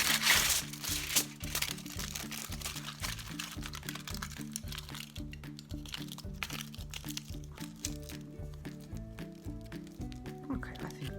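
Aluminum foil being crumpled and squished by hand into a body shape for a polymer clay figure, a close, crackly crinkling that runs in bursts, with a steady low hum and brief talk alongside.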